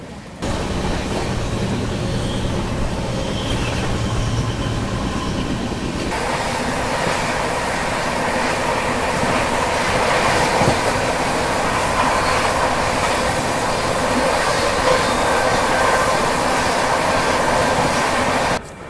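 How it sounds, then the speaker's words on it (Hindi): The Jammu Mail passenger train rolls into Aligarh Junction, a loud, continuous rumble and rattle of carriages heard from on board that grows fuller after a few seconds and carries on steadily. "हमारी ट्रेन अभी पहुंचने वाली है अलीगढ़ जंक्शन रेलवे स्टेशन।"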